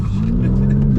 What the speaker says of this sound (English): I like brake boost just to get the wheel spinning